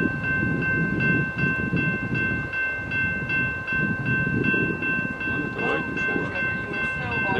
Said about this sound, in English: Maybe waiting for another train going across,